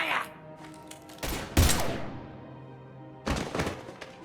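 Gunfire in the sci-fi video game Mass Effect Legendary Edition comes in two loud, close bursts of rapid shots, separated by a lull of lower rumble and faint background tones.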